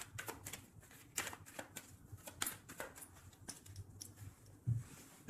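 A deck of tarot cards being cut and shuffled, quiet close riffling and flicking snaps in irregular bursts, with a soft knock near the end.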